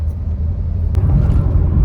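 Car driving along an open road toward Nashik after clearing traffic, a steady low engine and tyre rumble from inside the cabin, continuous and fairly loud, with a brief thump near the middle.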